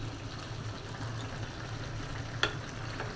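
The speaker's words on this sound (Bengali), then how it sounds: "আর রুই মাছ ছোটো করে কেটে নিয়েছি, সবজি দিয়ে রান্না করছি।" Small cut pieces of rui fish cook with vegetables in a pan, giving a soft, continuous sizzle and bubbling with one brief clink partway through.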